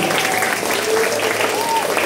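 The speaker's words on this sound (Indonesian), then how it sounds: "tepuk tangan untuk semangat kita pada pagi hari ini" Applause from schoolchildren at an Independence Day ceremony at an elementary school, a continuous mass of clapping with an adult voice calling over it.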